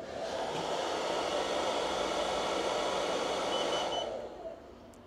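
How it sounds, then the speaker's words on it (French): Hair dryer set to maximum and powered from a Zendure ACE 1500 portable power station, a steady broadband blowing whoosh running for about four seconds before cutting out as the unit trips into protection. "Donc j'allume le sèche-cheveux."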